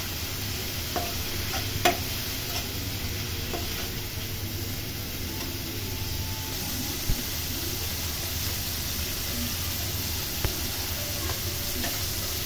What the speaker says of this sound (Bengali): হলুদের গুঁড়া, ধনিয়ার গুঁড়া, মরিচের গুঁড়া দিয়ে নাড়াচাড়া করে রান্না করে নিতে হবে।